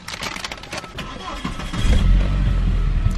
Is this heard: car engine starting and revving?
yes